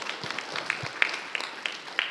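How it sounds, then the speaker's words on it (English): Audience applause for a speaker at an academic plenary session, a short burst of scattered, uneven claps that sounds thin and somewhat distant, with no talking over it. "let us give applause to Prof."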